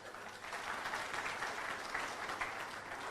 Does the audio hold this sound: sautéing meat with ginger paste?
no